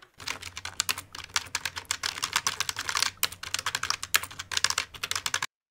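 Fast typing on a computer keyboard while writing C++ code in Visual Studio, with dense bursts of close, crisp key clicks and a few short pauses, and no talking.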